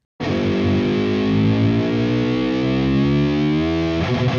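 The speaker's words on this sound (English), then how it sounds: "now that's where the second guitar comes in" A heavily distorted electric guitar sustains loudly and alone. It holds a thick chord that slowly bends in pitch as the bar is released, then changes abruptly near the end.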